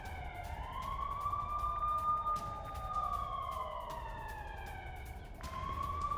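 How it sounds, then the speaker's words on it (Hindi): Air raid sirens wail across Jerusalem after an Iranian missile attack, a sustained, loud, slowly rising and falling tone with several overlapping sirens layered together, continuous and alone with no voices. "इजराइल हमलों के बाद एयर सायरन बज रहे हैं"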